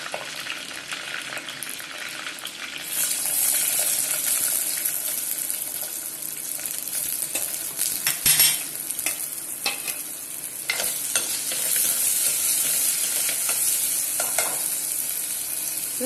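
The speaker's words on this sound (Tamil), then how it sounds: "போட்டு நல்லா வதக்க போகிறோம்" Sliced onions sauté in a clay pot with a continuous bright hiss of frying, broken by an occasional scrape of a stirring spoon; close and fairly loud, no voices.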